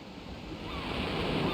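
Ocean waves in King's Quest IV wash steadily in a continuous broad roar of surf, swelling slightly louder toward the end, with no other sounds.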